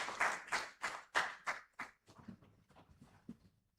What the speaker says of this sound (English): let's give her a round of applause as she comes through.